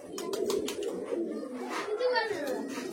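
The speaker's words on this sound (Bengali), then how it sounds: "এসব পায়রাগুলি মাদা পায়রা আছে" Female Madrasi high-flying pigeons with clipped wings coo softly at a pigeon loft, their low calls mixed with someone talking over them.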